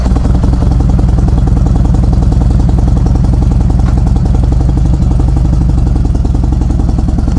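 A motorcycle on a test ride after clutch repair, its engine running steadily and loudly with a continuous rumbling, rhythmic pulse throughout, close up and without speech.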